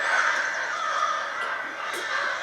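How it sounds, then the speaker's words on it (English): A large flock of crows in a Game of Thrones scene caws in a dense, continuous raspy chorus, moderately loud, with a few sharper calls standing out. "that is too many crows to be normal"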